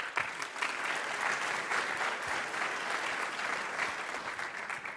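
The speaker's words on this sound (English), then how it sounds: "Please give them a big round of applause." A live audience at a startup pitch competition session bursts into sustained applause, a dense, steady wash of many hands clapping at even loudness for the full stretch.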